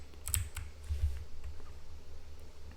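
Computer keyboard keys pressed to switch between and control turrets: a handful of quick, light clicks in the first second, then a softer tap or two over a low steady hum, with no talking.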